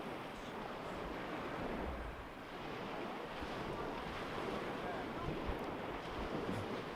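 A steady breeze off a lake brings continuous lapping waves and wind buffeting the microphone, a dense even wash lasting several seconds, outdoors at a tournament.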